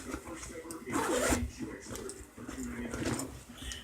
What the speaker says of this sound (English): So, I'm going to unzip this.